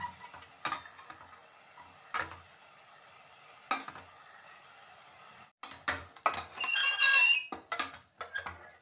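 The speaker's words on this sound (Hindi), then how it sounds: "एक दो मिनट तक अच्छी तरीके से मसालों को भुनना है ताकि टमाटर पूरी तरीके से गल जाए" Spices, tomatoes and onions for an aloo matar curry being stirred and fried in a pan, with scattered scraping strokes over a soft sizzle that thickens toward the end.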